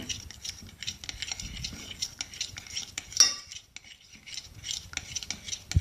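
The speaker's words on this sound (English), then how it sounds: "I'm going to give this a good stir." A utensil stirs slime mixed with hand lotion in a bowl, producing soft, steady scraping and clinking against the bowl with a brief sharper tap partway through, close and alone.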